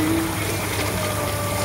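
Water runs steadily from a tap while food is washed to flush out any worms, a close, continuous gushing hiss that stays level and has no talk over it.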